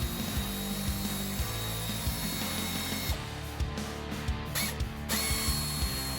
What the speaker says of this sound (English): Using an air ratchet, we had them off in no time.